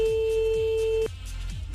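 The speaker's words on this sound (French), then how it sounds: "J'aime pas quand on a 3 sonneries, ça me stresse." A steady telephone ring tone plays during a radio call-in, held as a loud electronic note that cuts off abruptly. A low, repeating background pattern runs underneath it.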